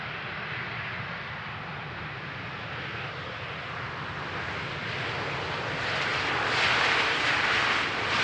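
A landing airliner at Amsterdam Schiphol on runway 18R, a steady broad engine roar heard from a distance that slowly swells louder toward the end, with no talking.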